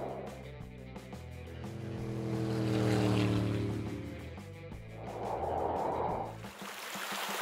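A motorboat engine drones steadily, rising to a loud roar as it speeds across the water, then easing off with splashing and a rush of wind.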